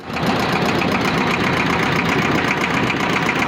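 A motor trawler boat's steady, loud engine drones with a fast rhythmic chugging throughout, close by and unbroken, with no voices.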